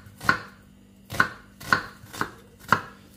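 A knife chops an onion, not too finely, on a board for Hungarian-style bean soup with smoked sausage: five crisp, evenly spaced thuds, close and clear with quiet between.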